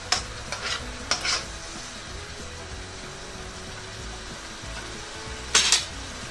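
Pancit bihon rice noodles stirred in a pan, a soft steady scraping and sizzle with a few brighter utensil clinks near the start and a louder clatter near the end, no talking.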